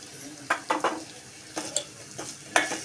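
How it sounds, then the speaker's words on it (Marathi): Ginger garlic paste goes into hot oil with tomatoes for chole, a soft sizzle under repeated spoon scrapes and clinks against the pan at an irregular stirring rhythm, close by and without talk. "टोमॅटो तेल सोडू लागलं आहे, आता मी टाकते त्याच्यामध्ये आलं लसूण पेस्ट"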